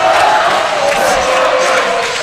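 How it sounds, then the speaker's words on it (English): A crowd at a swimming championship cheers and shouts steadily and loudly for finalists in the 100 breaststroke, forming a continuous roar in an indoor pool arena. "We got our teams cheering on."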